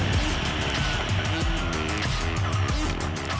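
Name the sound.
Formula E single-seater race car driving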